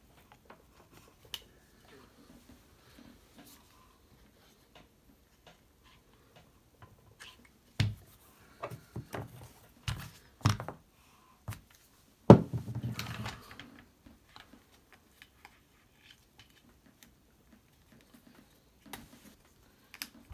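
A Sig Sauer Virtus rifle upper receiver is taken apart in a quiet room. Sparse metallic clicks and small clatters come in scattered bursts, clustered near the middle, with long near-silent gaps between them.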